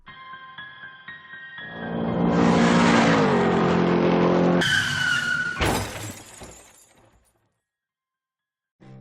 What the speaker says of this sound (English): the two cars crashed almost head-on